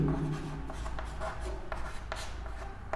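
Pen or chalk writing by hand during a geometry lecture on triangles, heard as brief scratchy strokes in an irregular rhythm, close and fairly quiet, with no talk over it.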